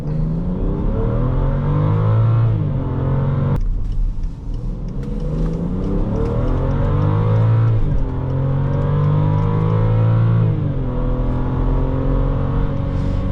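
A 2012 BMW X5 xDrive35i accelerates hard, its engine note climbing steadily in pitch through several gear changes, loud and continuous from inside the cabin with no talking.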